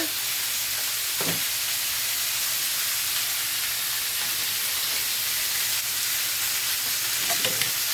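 Pork searing in a pan beside sauerkraut, giving a loud, continuous close sizzle and hiss with a few faint clinks.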